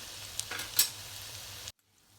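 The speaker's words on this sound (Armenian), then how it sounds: "Մարմանդ կրակի վրա այսպես տապակում ենք" Vegetable Manchurian balls fry in oil over low heat, a soft, steady sizzle with a few brief crackles and spoon scrapes before the sound cuts off suddenly.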